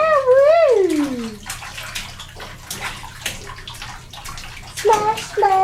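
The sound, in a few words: child splashing water in a bathtub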